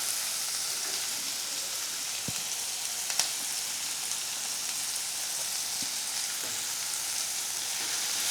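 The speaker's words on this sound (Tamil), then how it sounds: "வெங்காயம் கொஞ்சம் வதங்கியிருக்கு." Onions fry with salt in a pan, giving a continuous, even sizzle with occasional faint stirring clicks, close and steady with no talking.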